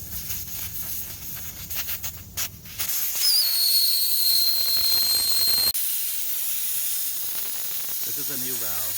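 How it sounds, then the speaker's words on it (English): Air hisses steadily out of a car tire valve stem as the valve core is unscrewed and removed, a loud continuous rushing hiss with high whistling tones, preceded by faint handling noise. "This will take out the valve, and you'll hear some air coming out."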